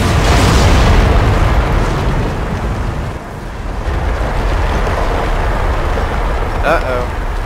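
A loud in-game explosion in Dragon Age Inquisition: Trespasser: a heavy boom with a rumbling, debris-filled tail that dips and then swells again, and a brief whistling burst near the end.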